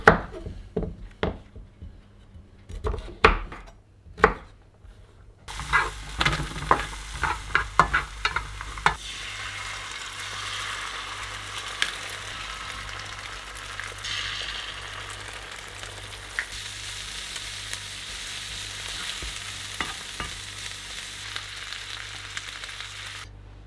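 Three eggs, sweet potato and chorizo frying for breakfast in a log cabin, opening with clattering knocks and taps, then a steady close sizzle with occasional scrapes of stirring.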